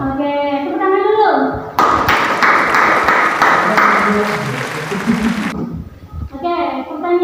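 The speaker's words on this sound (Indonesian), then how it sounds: "Oke, tepuk tangan dulu." A class in an Islamic creed and ethics lesson breaks into roughly four seconds of dense hand clapping, with children's speech heard just before and after.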